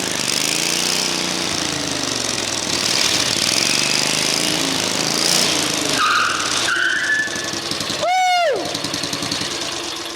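A Wheel Horse garden tractor's small engine revs hard and roars near the microphone, with a rising and falling whine as the throttle opens, ending in a sharp upward sweep of revs.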